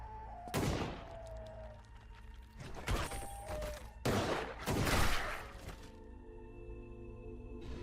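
Heavy gunfire in a horror video game, with several loud bursts of shots near 0.5, 3 and 4–5 seconds, each with a sharp crack and booming tail over a low game drone, ending with a quieter ringing hum.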